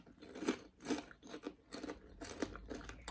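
Salt and vinegar crisps crunched close up in a steady series of sharp, bright bites, about six distinct crunches over a few seconds with no talking.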